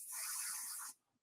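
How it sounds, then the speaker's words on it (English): Pixie spray hisses out of an aerosol can in one short, steady burst lasting under a second, close and fairly quiet, then stops abruptly. "I have to put a little bit more pixie spray on there."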